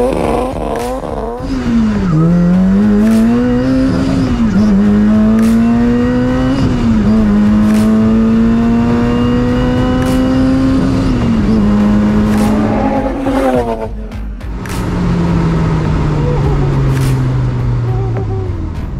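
A Lotus Exige 260 Cup accelerates hard on a performance run, its engine climbing through the revs with several sharp gear changes and a loud, close, continuous roar that eases off near the end.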